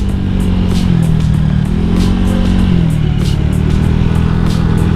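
A Honda Vario 150 scooter's small motor hums steadily and loud, the pitch rising and falling slightly as it rides along, with faint clatter over the drone.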